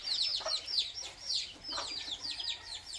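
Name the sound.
chickens and roosters clucking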